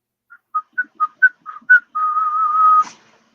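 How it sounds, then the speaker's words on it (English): A person whistles alone, about seven short rising notes in a quick series followed by one long sustained tone that ends abruptly, clear and close with no talking. "Good whistle there"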